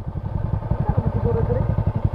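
Motorcycles on a charity ride rumble past close by, a throbbing, pulsing engine drone that holds loud and steady for a couple of seconds.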